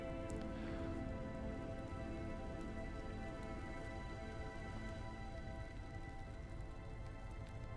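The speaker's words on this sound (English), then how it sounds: "We're in the forest and it's raining" Rain falling in a forest in Last Epoch, a soft, even patter of drops on foliage and ground, steady and fairly quiet throughout, with a faint sustained tonal layer of game ambience beneath.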